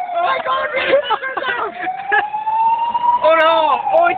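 A wailing siren rises and falls continuously at moderate distance while several people talk excitedly over it.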